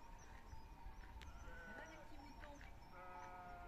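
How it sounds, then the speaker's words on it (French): Sheep bleat at intervals across a busy outdoor scene, with steady background murmur and some voices mixed in. "Écoute les moutons."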